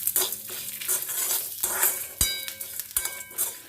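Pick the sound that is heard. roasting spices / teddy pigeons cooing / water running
roasting spices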